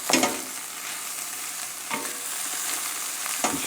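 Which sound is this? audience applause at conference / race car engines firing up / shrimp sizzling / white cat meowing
shrimp sizzling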